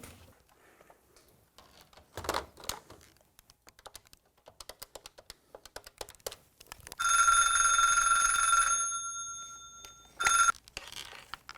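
A telephone rings loudly for about two seconds and then gives a brief second ring. Sparse clicks and keyboard-like tapping come before it in an otherwise quiet room.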